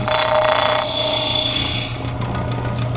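A hunting knife blade is polished with sandpaper, making a continuous close, abrasive whirring with a steady tonal hum beneath. The texture shifts partway through as the contact changes, and no one speaks.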